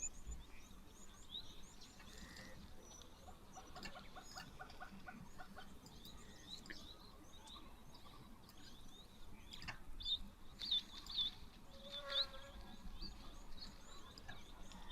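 Wild birds calling around a waterhole, a scatter of chirps, whistles and clucking calls at mid distance over a steady outdoor ambience, growing livelier toward the end.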